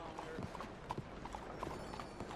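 Horse hooves clip-clop in the video game Red Dead Redemption 2, a quiet, irregular run of close hoof strikes over a low ambient bed, with talk nearby.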